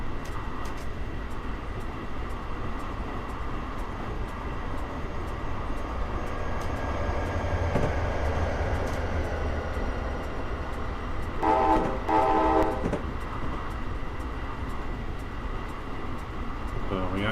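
Trains rumble past in Trainz Simulator on Metrolink and Amtrak runs around Los Angeles, a continuous rolling drone with a brief horn-like burst near the middle, and a voice talks over parts of it.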